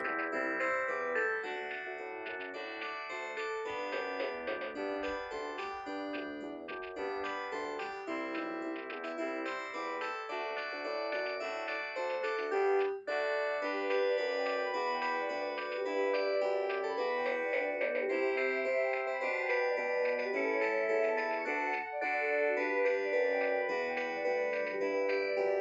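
A Panasonic KX-TGCA20 handset plays an electronic ringtone: a bright, busy synthesized melody of steady repeating notes that runs unbroken and fairly loud for about 25 seconds, with no talking.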